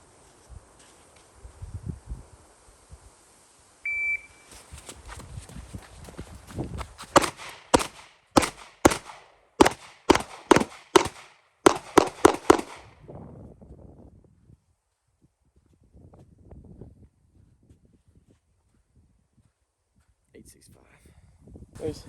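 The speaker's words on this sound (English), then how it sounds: "on the buzzer, I'm gonna move up and shoot 4 rounds on each target." At a shooting range, a shot timer beeps, then a rapid string of sharp gunshots rings out in two bursts, fairly close, followed by quieter handling sounds.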